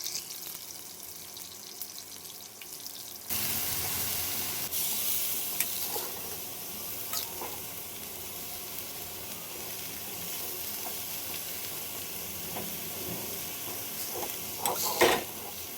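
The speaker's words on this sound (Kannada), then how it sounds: "ಪೂನ ಎತ್ಕೊಂಡೇ ಒಗ್ಗರಣೆ ಹಾಕ್ತಿದ್ದೆ." Spices tempering in hot oil with onions going into the pan, heard as a sudden loud sizzle that holds steady, with scattered spoon clinks and pan knocks, recorded close in a home kitchen.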